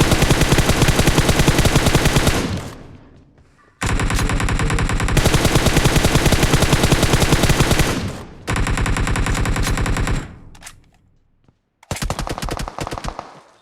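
Loud rapid automatic gunfire in the battle royale game BGMI, long sustained bursts of machine-gun fire broken by brief pauses, close and dense throughout.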